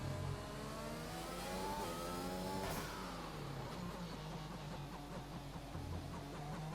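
Racing car engine in a video game during a 24-hour event, a sustained loud engine note that climbs, then drops sharply as it downshifts and settles into a lower, choppy rumble, with no talking.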